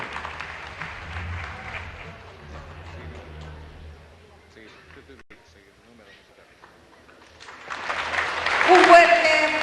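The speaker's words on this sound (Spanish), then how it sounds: "Fuertes los aplausos." Applause breaks out at the close, a loud, dense crowd clapping that swells over the last two seconds at an international meeting of Latin American teachers, after a stretch of murmured voices and low background noise.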